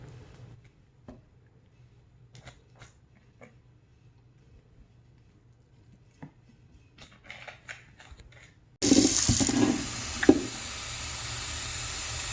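Tap water gushes into a cooking pot being filled for sugar-free applesauce, a steady loud hiss that starts suddenly near the end after quiet kitchen clatter.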